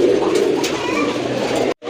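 A pair of red gola pigeons coo softly and continuously at close range, a low throaty murmur that cuts off abruptly near the end.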